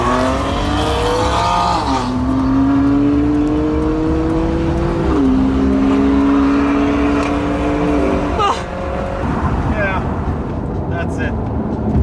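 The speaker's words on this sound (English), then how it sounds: "there's a lot of BMWs on this drive and lots of M4s, M3s, M5s, a lot of 4 Series, 3 Series" Engine drone from a convoy of BMW M4, M3 and M5 cars driving on country roads, with rising and shifting revs heard from inside a car, loud and continuous.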